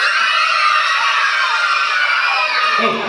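A crowd of kindergarten children clapping, shouting and cheering loudly and continuously, a dense high-pitched roar of excited voices with no pauses.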